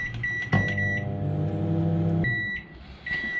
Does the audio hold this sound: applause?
no